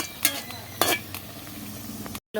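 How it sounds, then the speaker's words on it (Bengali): Bottle gourd peel fritters fry in hot oil with a constant sizzle, punctuated by a few sharp scraping clinks as the pieces are turned over. "এইভাবে এপিট ওপিট করে এগুলো ভেজে নেব"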